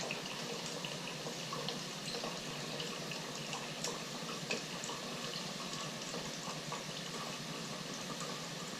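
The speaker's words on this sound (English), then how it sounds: "I'm filling a cup up with water" Continuous steady rush of tap water pouring into a cup, even and unbroken from start to finish, with no voices.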